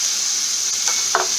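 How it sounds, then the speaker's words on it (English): Curry paste sautéing with vegetables in a pan for a Thai vegetable curry: a steady high hiss of frying with a couple of brief stirring clinks near the end. "The paste will get sauteed along with the vegetables."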